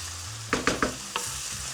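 Lamb with tomato paste frying in a pan, a steady sizzle with four distinct clinks of a utensil stirring against the pan, close up.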